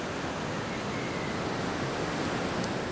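Ocean surf on Kauai's North Shore, a steady loud broadband wash of breaking waves with no distinct breaks, heard alone without talk.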